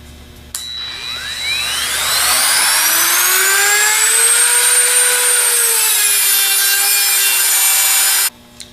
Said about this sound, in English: use the Dremel to cut it off